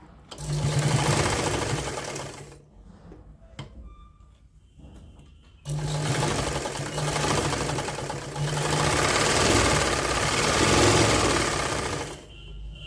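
A sewing machine stitches the toe of a knitted sock in two loud, close runs of steady whirring, the first about two seconds, the second about seven seconds, with a quieter gap of faint handling noise between.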